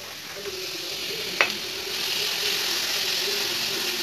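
Carrot poriyal stirred in a pan over low heat, a soft continuous scraping and gentle sizzle with one sharp clack of the spoon against the pan.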